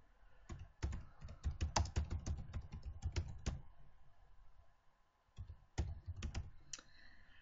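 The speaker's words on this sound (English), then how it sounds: "And once I've typed in all my references" Rapid keystrokes on a computer keyboard come in a dense run of clicks, pause briefly, then resume in a few scattered taps; close and fairly quiet, with no talking.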